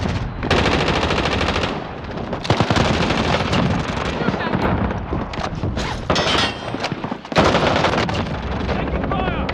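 Video game gunfire, loud and sustained rapid automatic bursts crackling almost without pause for nearly ten seconds, with brief dips and a heavy burst near the end.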